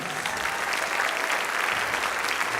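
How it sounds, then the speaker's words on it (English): Concert audience applauds a middle school orchestra at an all-city orchestra event: dense, even clapping from a large crowd, sustained and fairly loud with no pauses. "Let's give them one more round of applause."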